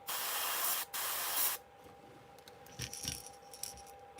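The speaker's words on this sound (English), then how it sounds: "we'll go back in and spray some of that gold" Airbrush spraying gold paint onto a fishing lure through a stencil: a loud steady hiss for about a second and a half with a brief gap, then quieter small clicks and handling sounds.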